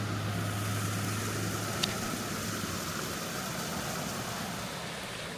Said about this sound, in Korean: 물소리에 발을 맞춰 나무 사이로 걸어갔습니다.